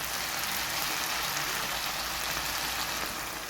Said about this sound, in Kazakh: енді оның үстіне салқын суымызды құйып аламыз